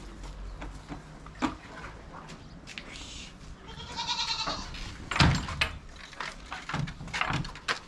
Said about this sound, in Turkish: Keçiniz de çok güzelmiş.